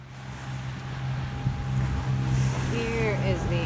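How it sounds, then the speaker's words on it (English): Sailboat motoring straight into the wind through big seas off the northwest point of Crete, a steady low engine drone under continuous wind and water rush, with a voice talking over it. "We have pretty big seas today. We're motoring because we're right into the wind"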